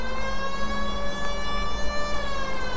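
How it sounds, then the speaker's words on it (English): Police car siren in the video game L.A. Noire, a steady wailing tone with stacked harmonics sustained loud throughout, with no talking. "because your siren is on."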